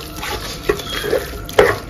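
Biryani masala being stirred in a pressure cooker: a spoon scrapes and clinks against the metal several times at an uneven pace over a soft background rustle.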